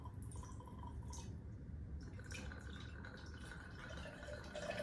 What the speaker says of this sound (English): we're going to want to fill 2 of these up with water.